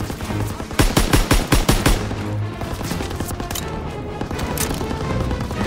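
Call of Duty WWII gunfire, with rapid machine-gun bursts cracking in quick succession before easing into a dense wash of continuous battlefield firing, loud and close.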